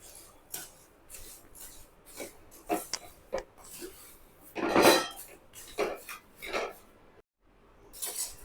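A spoon scrapes and clatters against a pan while poha snack mixture with chili powder is tossed and stirred, irregular metallic scrapes and taps, one louder rasp midway.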